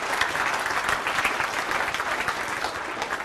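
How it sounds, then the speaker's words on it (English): Audience applause during a live language demonstration session, a dense, continuous round of clapping at fairly loud level from start to finish, with no talking over it. "Give him a round of applause."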